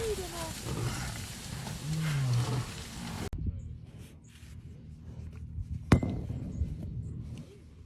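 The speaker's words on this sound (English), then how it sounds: "the lion, barely standing, growls back in defiance" An injured lion growls defiantly during a clash with buffalo in the wild, a low rough growl under dramatic sound and a sudden hard cut, with a sharp impact partway through.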